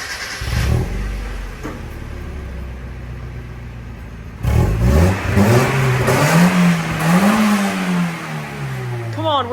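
A Mazda Miata on its stock exhaust, with a suspected clogged catalytic converter and a rattling cat shield, idles with a low, subdued drone. Midway it revs up louder, its pitch climbing and falling, then settles into a steady, fairly quiet hum.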